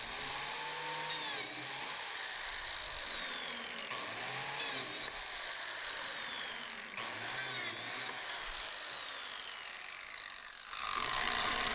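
A biscuit joiner cuts slots in wood, its motor whining at a high pitch and rising and falling through several spin-ups and cuts in close succession, loud and close.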